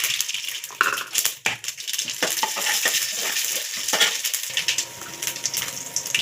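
Chana dal and mustard seeds fry in hot oil in a home kitchen, giving a loud, close, continuous crackling sizzle with sharp pops and spatters throughout; no one speaks.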